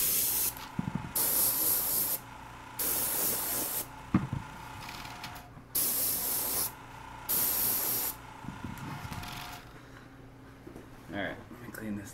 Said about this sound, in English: I think I'm good on the airbrushing